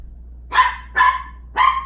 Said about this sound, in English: And that's Stella Luna being my guard dog right now. She heard someone outside